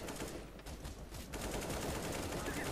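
Rapid gunfire from Counter-Strike: Global Offensive gameplay, a dense stream of shots rattling steadily for about three seconds at fairly low level with no talk over it.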